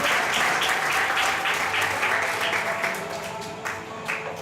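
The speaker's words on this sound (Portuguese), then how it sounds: "Isto merecia uma salva de palmas." Applause from a health conference audience, dense even clapping that holds steady and then slowly thins toward the end, with no voices over it.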